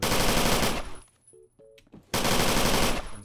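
Rapid automatic gunfire in the Roblox first-person shooter Phantom Forces, loud sustained bursts at the start and end with a short quiet gap between them.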